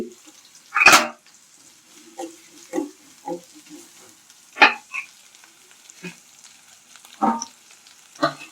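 Green chillies and a piece of ginger sauté in a pan, sounding as sparse, close scrapes and knocks of a stirring utensil against the pan at irregular intervals, with only a faint sizzle beneath and quiet gaps between.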